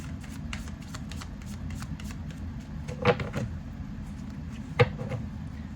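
A deck of oracle cards is shuffled by hand, giving a run of quick papery riffles near the mic, then a card is pulled with a couple of sharper slaps.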